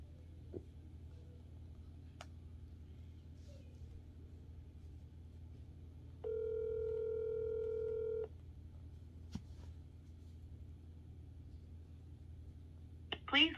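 A single telephone ring tone sounds once for about two seconds on a quiet call line before voicemail picks up, a faint steady tone over low background hum with a few clicks.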